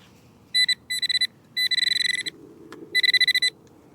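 A metal detector signalling a target in an old school yard in the rain, sounding rapid bursts of high electronic beeps in quick pulsed groups, close and loud over faint background noise.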